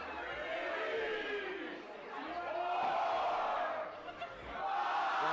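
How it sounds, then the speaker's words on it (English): A wrestling arena crowd chants in rhythm and counts along during a match, a dense roar of many voices rising and falling, with a commentator speaking over it. "Now this crowd chanting, counting along"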